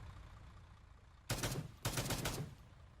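Two short bursts of machine gun fire in the military shooter Arma 3 Antistasi, each lasting about half a second to a second, following a quiet stretch with no talk.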